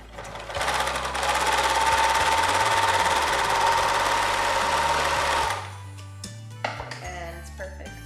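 A serger sewing machine stitches cloth diaper fabric in a fast, steady whirring burst for about five seconds, then stops, leaving faint handling clicks.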